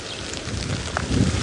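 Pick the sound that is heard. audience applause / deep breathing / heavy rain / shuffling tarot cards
heavy rain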